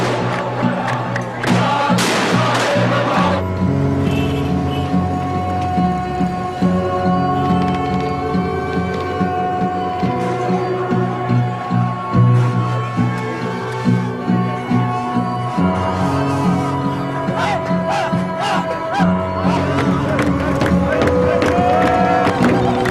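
A dense, noisy crowd murmur fills an evening firework festival in Ma'lula, Syria, with many voices mingling and occasional louder shouts rising over the continuous hubbub.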